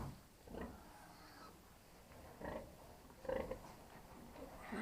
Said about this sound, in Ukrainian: Отакі ну, в нас вийшли поросятка